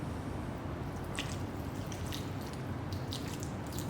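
Vinegar is poured generously over eggplant pickles, a soft close liquid trickle with a few light drips under a steady background hiss.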